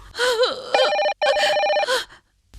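A telephone rings loudly and close in a home drama scene, two bright warbling electronic ring bursts with a short gap, preceded by a brief gasp-like voice.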